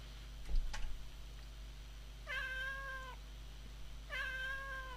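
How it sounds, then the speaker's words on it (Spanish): A kitten meows twice in the Alice Mare horror video game, with two clear, drawn-out cries spaced about two seconds apart over a quiet background, after a brief soft knock. "¡Un gatito!"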